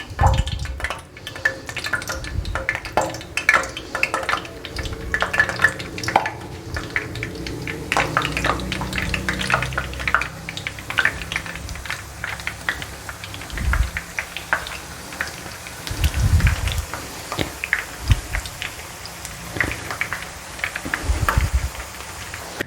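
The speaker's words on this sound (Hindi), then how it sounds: "दो मिनट आपने इनको फ्राई करना है।" Namak para dough pieces frying in hot oil in a home kitchen, a steady close crackling sizzle with scattered sharp pops and occasional clinks of a utensil against the pan, no talking.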